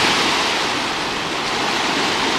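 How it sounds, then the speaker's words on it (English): Ocean waves run up a shore where fishermen and a fishing boat are nearby, making a loud, continuous rushing wash of surf with no breaks or voices. "one of the waves got her"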